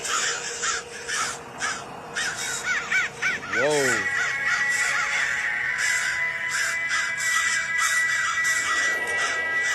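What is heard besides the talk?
crows cawing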